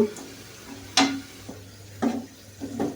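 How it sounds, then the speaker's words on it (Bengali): Chopped garlic fries in a pan until brown, a soft steady sizzle broken by four sharp scraping clinks of a spatula against the pan at roughly even intervals. "রসুনগুলোও আমি ওই রকমই বাদামি কালার করে ভেজে নেব।"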